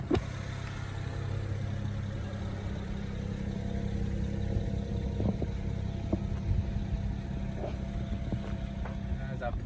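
BMW 335i driving, a steady low engine hum and road rumble heard from inside the car at moderate volume, with occasional faint clicks.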